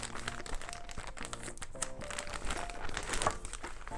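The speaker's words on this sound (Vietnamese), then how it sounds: "trên tay mình là một cái túi ni lông của thằng MacJacob" A plastic bag wrapped around a red Marc Jacobs Snapshot camera bag crinkles and rustles continuously up close, with dense crackling handling noise throughout.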